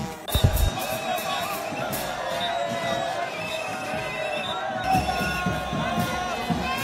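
A huge crowd greets the head of government at a political rally site near Chikapa airport, with a steady wash of cheering and babble under a voice, plus a few sharp thumps at the start.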